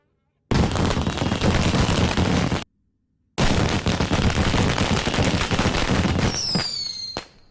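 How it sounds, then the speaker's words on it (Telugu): Firecrackers go off in a dense, continuous crackle of sharp pops during a comedy scene. The burst pauses briefly, then resumes, and ends with a rising whistle and a few last bangs. "టపాకాయలు బాబు వెళ్తున్నాయి."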